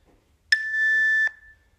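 A single electronic exercise-timer beep, a clean steady tone lasting under a second, clear and close in an otherwise quiet room.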